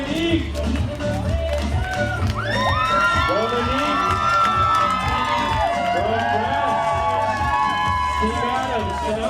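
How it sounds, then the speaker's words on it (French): A crowd cheers the world champion para-athlete Dominique Benassi at an ultra race finish: loud, continuous shouts and whoops, some from children, over a steady rhythmic thumping. "Le public acclame le champion du monde, éternel insatisfait."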